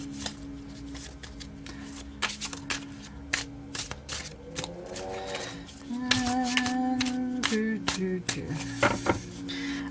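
Tarot cards are shuffled by hand in quick, crisp bursts of flicking and riffling, close up, with soft hums of a voice in the background.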